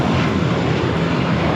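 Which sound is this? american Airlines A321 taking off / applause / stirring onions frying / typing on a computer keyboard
american Airlines A321 taking off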